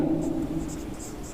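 Pen writing an English notice on paper during a lesson, a soft continuous scratching close by over a low room hum.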